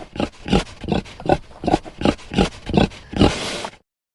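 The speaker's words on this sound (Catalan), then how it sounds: "Porc." Rhythmic pig grunts and oinks, about eight short, low snorts in a steady pulse, close and fairly loud.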